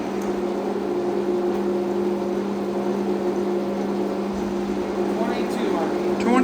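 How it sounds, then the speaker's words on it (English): A Summit 17x60-inch gap bed engine lathe running at its lowest speed of 22 RPM gives a steady, close mechanical hum with a constant low drone and a faint whir throughout. "22 RPM. That's the lowest RPM on the machine."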